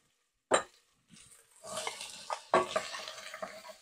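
Ginger and carrots hit a hot pot over medium heat with a sharp initial sizzle, followed by stirring scrapes and a steady frying hiss that swells in short bursts.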